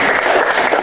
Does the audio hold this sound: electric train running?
no